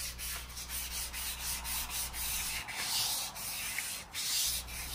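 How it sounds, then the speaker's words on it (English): Light hand sanding of a guitar kit body with 400 grit sandpaper, a soft rhythmic back-and-forth scratching rub with regular strokes, close and fairly quiet with no talking. "Light sanding, 400 grit only"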